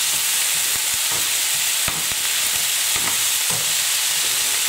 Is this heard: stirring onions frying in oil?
yes